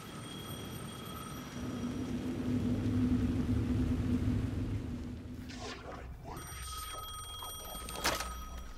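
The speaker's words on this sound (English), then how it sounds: "The phone again." A telephone rings in Alan Wake 2, a faint, muffled electronic ring cutting through a low droning ambience, with a sharper burst near the end.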